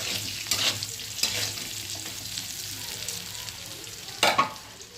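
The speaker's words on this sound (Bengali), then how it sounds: "এবার আলুটা ভাজা হয়ে এসছে" Potatoes sizzling in a pan with a few louder scraping stirs, a steady frying crackle between them and no talking.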